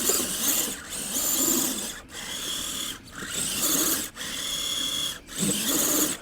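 Spinning tires of a cheap upgraded RC crawler digging into dirt, bursts of whirring motor and scraping grit that swell and cut out in roughly one-second pulses, close up with no talk.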